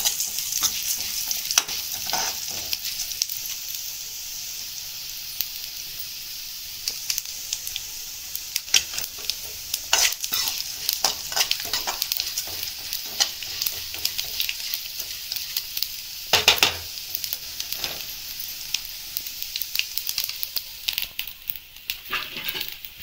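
Two spoons of cumin seeds frying in oil, a soft continuous sizzle broken by frequent crackles and scraping stir strokes, close and fairly quiet with no speech.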